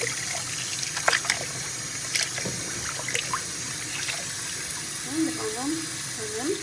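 Running tap water splashes over grapes being washed in a sink, a steady trickle and patter close by with occasional clinks, while a person talks over it.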